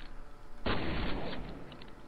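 A short burst of rapid gunfire in the game F.E.A.R. Extraction Point erupts suddenly, lasting under a second before fading into a faint lingering echo.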